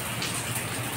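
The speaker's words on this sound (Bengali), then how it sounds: "আমি আছি আমার বেলকনিতে, দেখায় সুন্দর বৃষ্টি হচ্ছে।" Rain falls steadily, heard from a balcony as a dense, even hiss of drops with no breaks.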